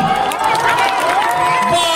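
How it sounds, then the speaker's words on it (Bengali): A lively audience at a festival show featuring models cheers and claps loudly and close, with whoops and voices mixed into the crowd noise. "আপনারা এত হাততালি দিচ্ছেন"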